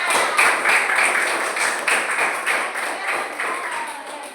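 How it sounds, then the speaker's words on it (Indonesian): A primary-school class applauds a group for a correct answer, with many small hands clapping in a lively, rhythmic patter that stays fairly steady across a few seconds in the classroom. "Tepuk tangan."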